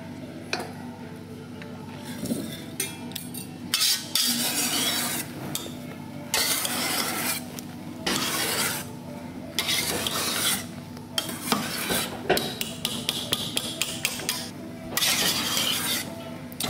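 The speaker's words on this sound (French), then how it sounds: "On fait ça au fouet parce qu'il faut absolument qu'il n'y ait pas de morceaux de blanc qui restent" A whisk folds egg whites into chocolate mousse in a bowl, giving steady close scraping and swishing strokes with short pauses, rhythmic and unbroken by talk.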